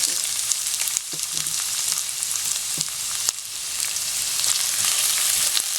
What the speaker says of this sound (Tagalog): Medyo lutuin natin ng konti yung sibuyas.